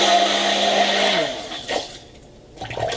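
A handheld stick blender whirs through cupcake frosting, a loud close motor drone that winds down partway and gives way to softer scraping and mixing noises.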